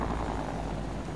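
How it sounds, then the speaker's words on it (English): A helicopter landing in an online battle-royale shooter game gives a steady, dense rotor-and-engine roar, loud and unbroken throughout with no talk over it. "I'm landing my helicopter."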